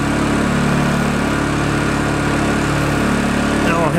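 A Honda generator engine runs steadily just after starting with the choke taken off, a loud, close, constant buzzing hum with no break.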